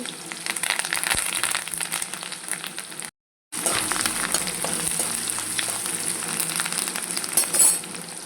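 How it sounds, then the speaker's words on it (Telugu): Onion and curry leaves fry in hot oil for a cabbage curry, a dense close sizzle with light clinks of a utensil, briefly cut off for a moment before resuming. "ఉల్లిగడ్డ వేసేస్తాం కరివేపాకు"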